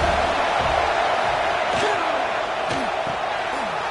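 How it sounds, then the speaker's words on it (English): A stadium crowd at a college football game sends up a broad, sustained roar that fills the space continuously, with a few louder swells and shouts rising out of the wash of noise. "The roar of the crowd trying to fuel this defense to keep them pinned in their own end."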